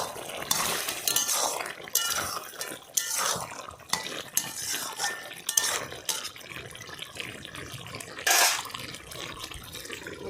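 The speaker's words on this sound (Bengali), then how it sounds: "এবার ঢাকা দিয়ে দিলাম।" A metal lid set onto a pot of country chicken curry in a home kitchen: several clinks and knocks of metal on metal, with scraping cookware sounds and a brighter clatter near the end, no talk.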